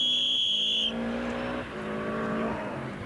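A Subaru rally car on the last stage of the 1991 Circuit of Ireland Rally crests a brow, engine note droning loud and close with a high whine at first, then shifting pitch as it carries on.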